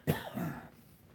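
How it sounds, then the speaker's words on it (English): One short, close, sneeze-like cough from an allergic animal, a sharp burst with a softer second push fading into quiet. "He'll quit that coughing. I call it coughing. They said it really ain't coughing. They said it's almost a sneeze from his allergies."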